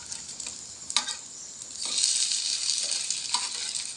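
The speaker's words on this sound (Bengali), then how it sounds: "ভালো করে একটু ভাজতে হবে" Food fries in oil in a pan with a steady close hiss that swells louder halfway through. A few light utensil taps punctuate the sizzle, and no one speaks.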